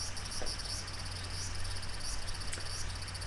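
Cicadas outside at night buzz in a steady high, pulsing drone. The sound is faint and continuous, under a low background hum, with no talking.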